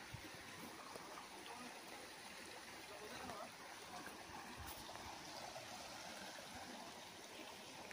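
A small waterfall and flowing stream near Rajmachi Fort in the Lonavala hills make a soft, continuous rushing wash with faint gurgles, steady throughout and without clear talk.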